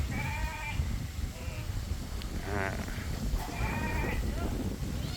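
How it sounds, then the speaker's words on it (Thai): Goats at a cafe petting farm in Sawang Daen Din, Sakon Nakhon, bleat several times at middling distance. The wavering calls rise over a dense, steady background of outdoor noise. "นี่อันนี้ก็แพะ"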